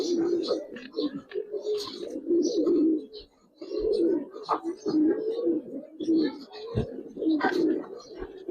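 Giribaz pigeons coo in a loft, males in breeding condition, with continuous overlapping low throaty coos close by, and people talking among them.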